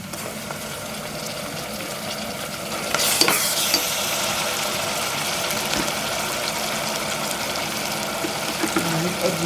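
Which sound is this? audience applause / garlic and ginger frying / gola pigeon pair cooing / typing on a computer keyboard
garlic and ginger frying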